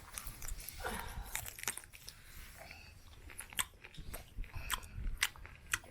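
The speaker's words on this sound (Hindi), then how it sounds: "तो इसको पहले एक एक करके खा लेते हैं" Close, crisp crunching bites and chewing on a tribal-style chicken leg piece, irregular snaps and munches repeating over several seconds with no talking.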